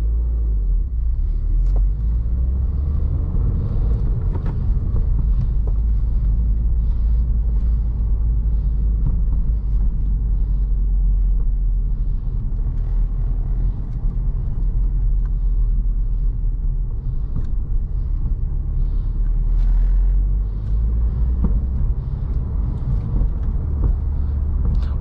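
2016 Subaru WRX Premium with a 6-speed manual pulling away in first gear, a steady low engine and road rumble heard from inside the cabin, continuous and fairly loud with no talking.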